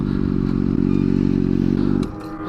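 A motorcycle engine idles loud and close with a rapid steady putter, then is switched off about two seconds in, dropping to a low fading rumble.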